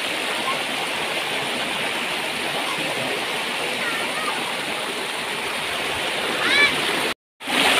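Merong Falls, a river waterfall in Negros Occidental, pours steadily with a loud, continuous rushing roar of falling water, unbroken until a brief cutout near the end.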